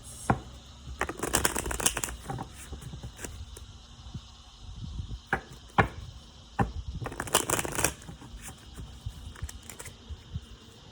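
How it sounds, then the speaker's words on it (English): Astrology arcana cards being shuffled by hand, with two long close riffle bursts separated by softer card slides and taps, fairly quiet overall with no talking. "let's see what we got from our Arcana of astrology cards"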